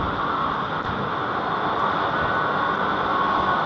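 An aircraft departing from London Heathrow Airport roars as a steady broadband rumble and hiss, constant and moderately loud with no voices over it.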